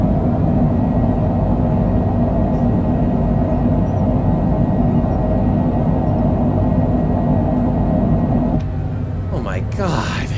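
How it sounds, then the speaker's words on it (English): An airliner lands at Shannon, Ireland, at 2 AM with spoilers up and thrust reversers engaged. A heavy, loud, continuous roar and rumble fills the cabin, then eases near the end as a voice briefly speaks. "Get those reversers on."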